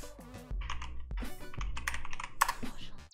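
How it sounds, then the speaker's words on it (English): Keys on a Drop CTRL High Profile TKL mechanical keyboard click and clack in a few sharp presses, close and fairly faint, with brief talking at the start. "because you're going to have to hit enter one more time."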